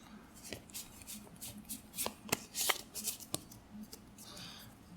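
Pokemon XY Ancient Origins trading cards handled close up: soft irregular rustles and several sharp card flicks and snaps, fairly quiet, with low room noise beneath.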